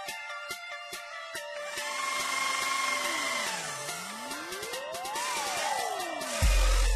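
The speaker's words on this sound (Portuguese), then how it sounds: "Fiz a perfuração com uma broca escariadora." A power drill with a countersink bit bores holes into a wooden table top, its whining motor rising and falling in pitch as it spins up, cuts and slows, with a heavier thump at the end.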